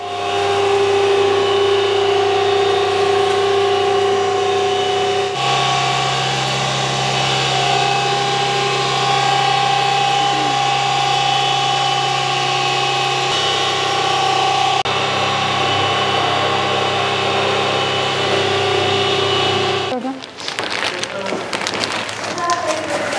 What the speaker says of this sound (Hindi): अभी हम ये अपने ग्राइंडर में डाल के इसका पाउडर बनाएंगे।